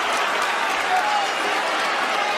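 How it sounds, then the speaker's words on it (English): A wrestling arena crowd roars and cheers for a wrestler, a loud continuous wall of crowd noise with a voice talking over it. "People want to cheer him."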